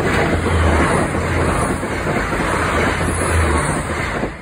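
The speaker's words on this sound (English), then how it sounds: "Well, that was a couple trains." Trains passing at the Dunmurry level crossing, a loud continuous rushing rumble with wind buffeting the microphone, fading slightly toward the end.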